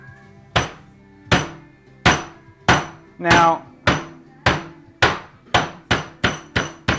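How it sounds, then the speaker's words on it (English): A wooden mallet pounds meat on a board in a kitchen with about a dozen loud, sharp thuds. The blows start spaced out and then come faster and closer together, with a brief word spoken near the start. "We are beating our meat. Lovely bit of meat we are beating."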